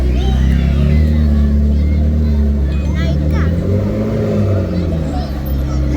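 A Land Rover Defender at the Cannonball 2025 event in Ireland rolls past with a loud, low engine rumble that swells and changes pitch. Crowd chatter and talking run over it.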